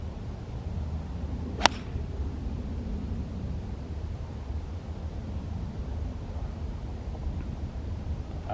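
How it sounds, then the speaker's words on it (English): One sharp, crisp click of a golf ball struck with a 7-iron on a nine-hole course, heard once against a steady outdoor wind hiss. "I'm gonna hit a 7-iron"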